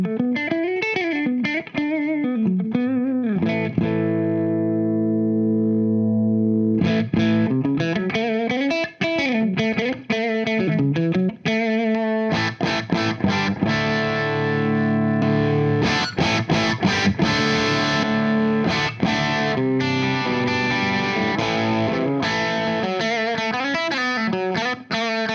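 An electric guitar run through a Carl Martin Honey-Comp compressor blended with overdrive gives a low-gain, slightly distorted tone, with sustained chords and melodic lines played continuously at steady volume.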